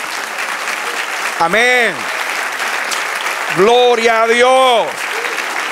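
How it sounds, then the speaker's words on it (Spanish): A church congregation applauds the Lord, steady clapping heard under two sung or shouted phrases of praise from a voice that rises over the crowd. "dele aplauso al Señor"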